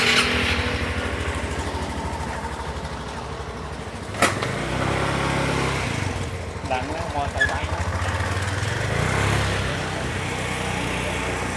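Kawasaki 900cc motorcycle with a high-performance exhaust and flashed ECM, its engine running steadily with a low throbbing note and a sharp blip partway through, while people talk nearby.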